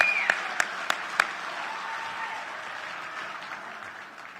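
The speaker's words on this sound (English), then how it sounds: "let's give these people a round of applause" Audience at a 16-inch softball Hall of Fame banquet applauding, with a few sharp whistles and claps at the start, then steady applause that gradually fades.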